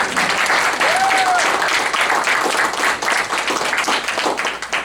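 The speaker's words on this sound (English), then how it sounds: "can we give them a round of applause?" Sustained applause fills a town board meeting in Plattsburgh as the room claps for town staff, a dense steady patter held loud throughout with a brief whistle-like tone rising above it near the start.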